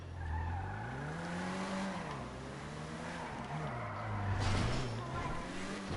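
Nemesis motorcycle driven in GTA 5, its engine droning with rising and falling pitch as it speeds up and eases off, steady and fairly close with a whooshing edge, no speech over it.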